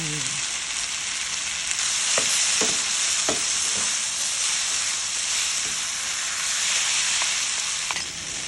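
Pink noodles with bean sprouts and spring onion fry in a steady, loud sizzle, with occasional scrapes and clacks from stirring throughout.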